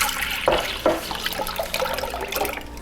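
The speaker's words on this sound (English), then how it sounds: "And then I'm gonna add my tea to this." Concentrated tea poured into cold water for homemade kombucha, a steady splashing, gurgling liquid sound with a couple of stronger gushes, close and continuous.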